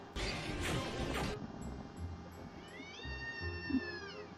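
A house cat cries out after being chased off in a fight with a black cat, giving one drawn-out, rising and falling yowl, moderately close, after a stretch of rough background noise.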